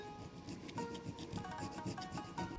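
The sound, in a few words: filing the top of a clock movement bushing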